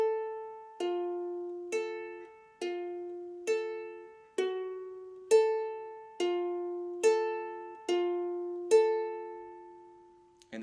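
A ukulele picks a song's riff slowly and solo: about ten evenly spaced plucked notes, each ringing and decaying before the next, close and clean.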